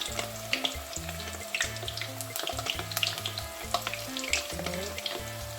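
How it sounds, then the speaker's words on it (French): Plantain pieces sizzle and fry in a pan over low heat while being stirred, a steady crackling hiss with occasional scraping and clinks from the utensil. "Et je laisse cuire pour quelques minutes tout en remuant, en tournant en fait."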